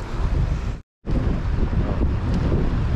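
Heavy wind at a picnic in Hong Kong buffets the microphone with a loud, continuous low roar, broken only by a brief cutout.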